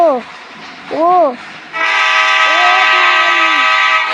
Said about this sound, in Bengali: আমরাই ট্রেন চালাচ্ছি